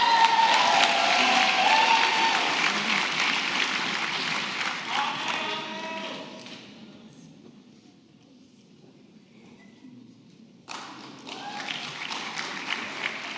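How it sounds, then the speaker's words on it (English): Audience applause fills a graduation ceremony hall, dense clapping that fades away over several seconds, then a fresh round breaks out and continues strongly. "please give a big applause for the next one as well"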